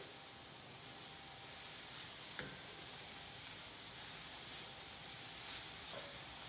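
Greens wilt in a hot pan with a steady broadband sizzle as they are stirred, with a couple of brief utensil clicks near the start and end; no one speaks.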